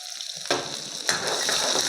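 Chopped garlic and ginger frying in a pan on low gas, a steady bright sizzle that jumps louder twice as something hits the hot oil, then holds a constant hiss.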